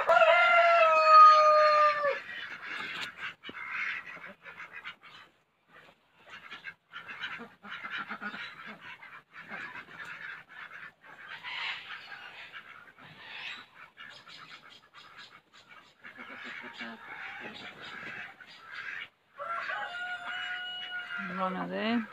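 Three Muscovy duck hens call repeatedly with nasal, honking and squawking notes over about twenty seconds, close by, with brief pauses and a louder burst at the start and end.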